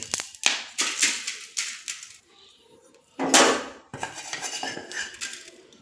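Roasted ingredients for cholapuri are tipped out of a metal pan and scraped free, making loud close clatters and rattling scrapes in several bursts. A brief quiet pause falls midway.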